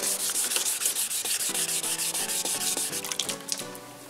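A car headlight being wet-sanded by hand with 1200 grit sandpaper, a steady, close, continuous rubbing scrape with rhythmic back-and-forth strokes and no talking.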